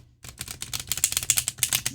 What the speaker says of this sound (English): when you riffle shuffle them face down, they go chunk, chunk, chunk